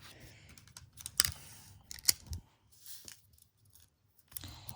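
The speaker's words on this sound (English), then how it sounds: "I'm going to tape it on both sides" Printed paper pattern pages for a sewing project being taped together on both sides: a few sharp, brief crackling rips and taps of tape against quiet room noise, with no talking.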